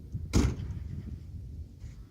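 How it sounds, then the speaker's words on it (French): Door on a Muller VP Streeter vehicle shut with a single firm thud near the start, followed by low mechanical rumble from the locking mechanism and surroundings. "Et derrière, on va verrouiller et fermer la porte."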